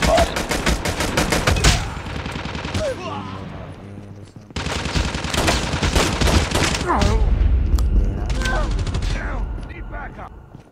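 Dense gunfire from Call of Duty Mobile in a team gun-game mode: rapid automatic bursts and overlapping shots, loud and continuous, with voices talking over the gameplay.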